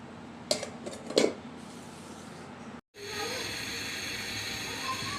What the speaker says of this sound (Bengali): আমি একটি ঢাকনা দিয়ে ঢেকে রাখছি